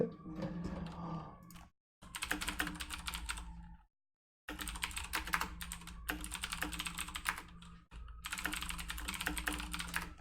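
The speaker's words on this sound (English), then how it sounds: "Do you like the sound of my keyboard?" Close, rapid typing on a computer keyboard comes in dense bursts of clicky keystrokes, broken by two short silent gaps, with no talking.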